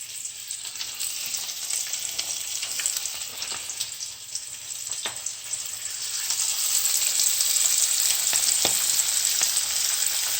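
Large spicy shrimp fry in hot oil with a dense, continuous hiss and crackle that grows louder partway through, close up with occasional sharper pops and no talk.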